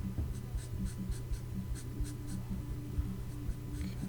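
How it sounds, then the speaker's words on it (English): A pen or marker colors in a drawing of a stick on paper with steady, quick back-and-forth scratchy strokes, close and fairly quiet. "I'm just coloring the whole stick right now with my two different shades"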